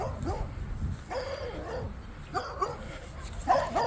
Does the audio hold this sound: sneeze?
no